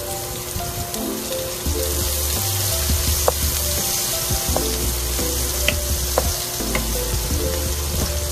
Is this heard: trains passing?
no